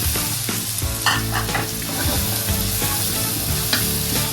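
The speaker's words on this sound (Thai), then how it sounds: "เมื่อน้ำมันร้อนนะครับ นำพริกตำที่เราไว้ผัดนะครับ ใส่ลงไปเลย ให้มันเหลืองก่อนนะครับ" Pounded chili hits hot oil and is stir-fried until golden for a Thai stink bean and minced pork stir-fry with shrimp paste, a loud continuous sizzle broken by spatula scrapes and stirring clatter, no talking.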